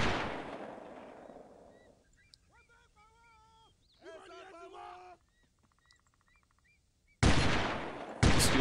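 Gunfire from Delta Force 2 in a military mission, heard as a few short, scattered shots and bursts between quiet stretches, before a loud, sudden blast of noise near the end.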